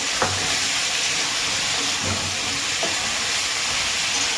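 Chilli and onion paste hitting a hot pan with potatoes for a fish curry, giving a loud, steady, broad sizzle that hisses continuously throughout.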